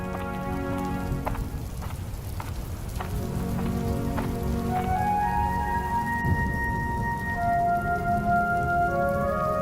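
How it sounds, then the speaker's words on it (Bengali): Cartoon rain and storm in a Bengali children's ghost story: a dense, steady patter of rain fills the scene, joined by sustained musical tones. No thunder stands out. "যা ঝড় বৃষ্টির দাপট!"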